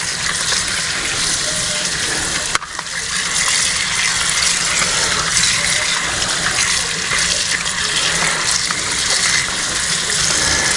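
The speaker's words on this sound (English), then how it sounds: "Cool them down with cool water." Tap water pours steadily into a sink over cooked crabs, a loud, continuous gushing rush heard up close, broken only by a brief knock early on.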